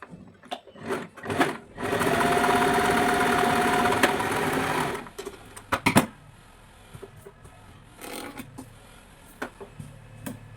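A sewing machine stitches a plain blouse in one loud, steady run of about three seconds, framed by scattered clicks and handling knocks before and after.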